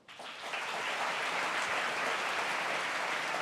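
Audience applause fills a sports awards night in Geneva, a dense, steady wash of many hands clapping that swells in quickly and holds at an even level throughout, with no voices rising above it.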